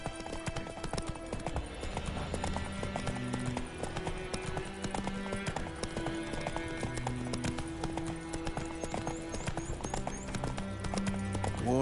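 Roach, a horse in The Witcher 3 on PS5, gallops with steady, rapid clip-clop hoofbeats that run without a break, set under continuous game music.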